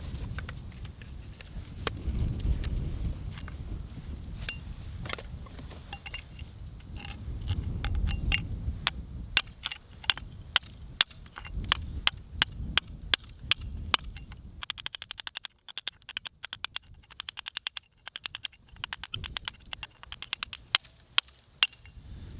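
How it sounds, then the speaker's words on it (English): A 3-pound hammer drives a handheld chisel into concrete, giving sharp metallic clinks in a steady rhythm that grow quicker and denser toward the end, close up, with a low background rumble early on. "I'm going to try chipping this off with a handheld chisel and a 3-pound hammer"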